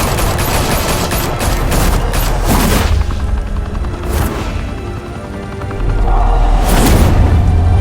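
Sustained bursts of animated gunfire from a Batman episode, loud and dense throughout, with heavy rapid shots, deep booms and crashing impacts layered in a continuous fusillade.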